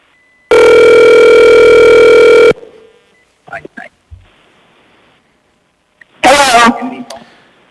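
A telephone rings loudly for public testimony at a Platting Board meeting, a single long steady electronic tone, followed by handset clicks and a brief burst of a voice on the line.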